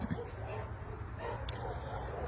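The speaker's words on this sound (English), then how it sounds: "hear the dogs barking." Dogs bark on a farm, faint and somewhat distant, a few scattered yips and woofs over outdoor background noise.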